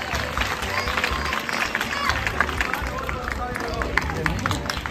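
An audience at a student award ceremony claps continuously, a dense, steady patter of many hands filling the room, with a voice speaking over the applause.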